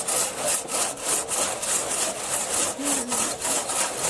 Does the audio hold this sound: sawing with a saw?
yes